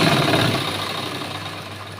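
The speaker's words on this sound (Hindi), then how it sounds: "डबल सिलाई लगा देंगे हम पक्का करने के लिए।" A sewing machine runs a double row of stitches on a button-front blouse, giving a steady mechanical hum that fades slightly over two seconds with no talking.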